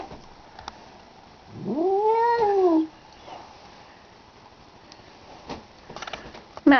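A cat gives one drawn-out, rising and falling yowl at a dog outside the window, close and fairly loud, followed by quieter rustling and small knocks.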